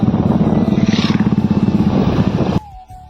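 A motorcycle ridden on the road, a loud close rumbling engine with rapid pulsing throb that cuts off abruptly near the end, leaving faint background noise.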